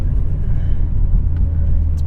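A Honda Civic Type R FD2 being driven, its engine giving a steady low rumbling drone with constant road noise, close and even throughout with no voices.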